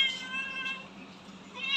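A cat meows in drawn-out, wavering cries, two calls close by and fairly loud with a steady low hum underneath, outdoors in a rural setting.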